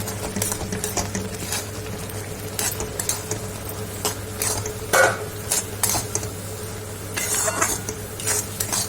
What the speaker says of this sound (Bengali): এবারে এর মধ্যে আমরা দেব সুজিটা ফ্রাই করা, দিয়ে সঙ্গে সঙ্গে নাড়িয়ে নিতে হবে